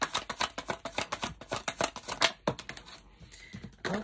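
Tarot cards are shuffled up close in quick bursts of crisp riffling and slapping, one dense run followed by a short pause and a few more scattered flicks.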